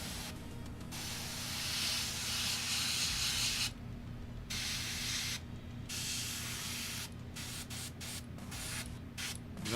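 Airbrush spraying paint in a steady close hiss that runs in long bursts, cutting out briefly several times as the trigger is released and pressed again.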